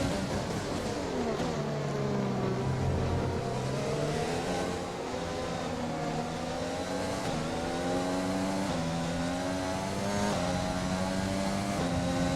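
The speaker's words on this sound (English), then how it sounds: "Bloody internal combustion engine." An F1 race car engine in the F1 2020 video game, heard from the cockpit, revs up through the gears, pitch climbing and dropping at each shift in a continuous loud whine, no talking.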